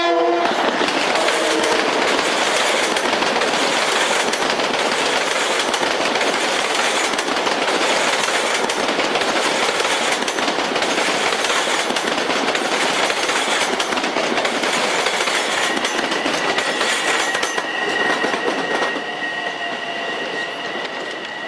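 A Long Island Rail Road commuter train rolls steadily past at close range, loud and continuous with wheel clatter throughout, its horn sounding near the end as the train recedes.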